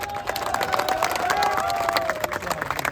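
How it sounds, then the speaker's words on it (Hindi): Audience at a gathering about teacher recruitment applauding, a steady patter of many hands clapping at moderate distance for a few seconds, with a faint sustained tone running underneath. "उस आदमी के लिए ताली बजा दो।"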